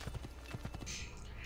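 Rhythmic clip-clop of a horse's hooves at a steady gallop pace in Assassin's Creed II, close and fairly loud, ending in a brief high whinny-like tone.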